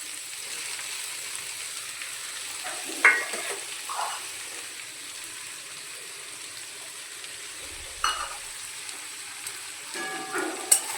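Potatoes fry in a pan with onion, green chili and crushed garlic, a soft continuous sizzle under a few scattered scraping stirs and clinks, fairly quiet and steady, with no talk.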